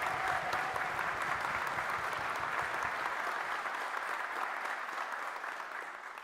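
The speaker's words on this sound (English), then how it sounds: "Can I get a big round of applause for all of our graduates?" A college graduation ceremony audience claps in a full, dense round of applause that holds steady, then slowly tapers off toward the end.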